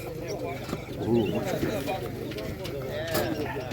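Pigeons at a livestock and animal show in Kolomyia coo softly in short bursts amid a busy crowd, with people talking nearby over the birds throughout.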